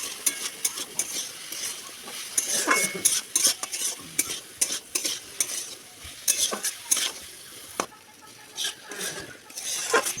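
Pumpkin and potato pieces seasoned with salt, turmeric and sugar are stirred in a hot pan, with a steady sizzle and frequent scraping clicks of a spatula against metal throughout.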